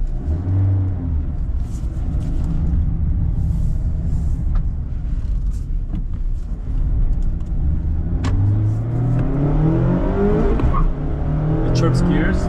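A 2023 Mazda Miata ND2 Touring with a six-speed manual pulls a short hard burst of acceleration, its engine note rising loud and close, with a brief tire chirp on the shift into second gear and a voice talking over it.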